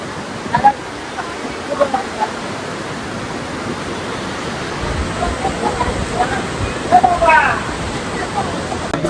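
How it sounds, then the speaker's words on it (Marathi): Fast-flowing river water rushes steadily near Badrinath, a broad continuous roar like a torrent close by, with crowd chatter and voices mixed in throughout. "तर गाईज पाण्याचा वेग बघा किती आहे,"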